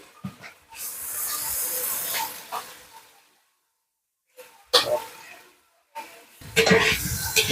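Ginger, garlic and onion paste hits hot oil in a biryani pan after fried onions, a loud bright sizzle that surges, fades, and flares up again in separate bursts with gaps of near silence.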